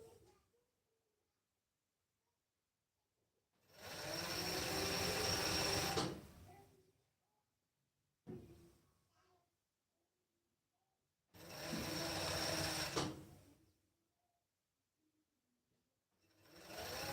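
Sewing machine stitching fabric for a kids' hoodie, running in two loud steady bursts of a few seconds each, separated by near-silence and a brief short run, recorded close.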